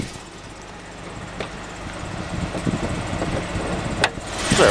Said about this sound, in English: Good sounding motor.